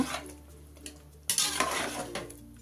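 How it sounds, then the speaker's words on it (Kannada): Spoon stirring salt through mushroom biryani in a pot, a steady scraping churn that grows louder and busier midway, with soft clinks against the metal and no voices. "ಒಂದು ಸತಿ ತಿರ್ಸ್ಕೊಳ್ಳೋಣ"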